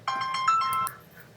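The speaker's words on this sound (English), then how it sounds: "Oh, I got a phone call for someone." A phone ringtone plays a short bright electronic melody for about a second, loud and close, then cuts off, heard in a garage during a brake pad job on a 2011 Honda Pilot.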